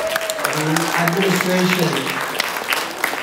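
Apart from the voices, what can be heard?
audience applauding at a concert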